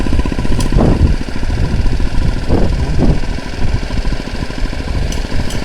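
A stopped vehicle's engine idles with a loud, steady rumble on a forest trail road near a homestay. A few brief louder surges rise over the constant drone.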